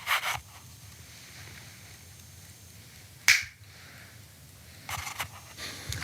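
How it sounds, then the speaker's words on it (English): A single sharp hand clap from someone holding a handheld microphone, loud and close, standing alone in a quiet room with faint rustles of handling before and after. "I should probably clap"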